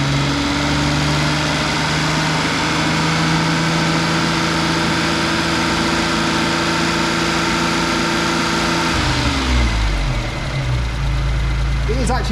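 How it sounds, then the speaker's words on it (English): Daihatsu Mira turbo engine with a newly installed alternator, running loud and close at a steady raised rev with a clear droning tone, then dropping back toward idle near the end. "And as I rev the engine,"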